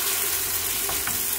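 A makki roti (maize flatbread) sizzles on a hot griddle greased with ghee over low flame, a steady close frying hiss throughout with no talk.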